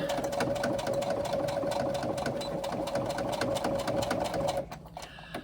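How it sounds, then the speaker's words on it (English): A sewing machine stitches back and forth across a fabric seam, running in a fast steady whir with even rhythmic needle strokes for several seconds before it stops abruptly. "I usually sew across these 2 or 3 times to help reinforce."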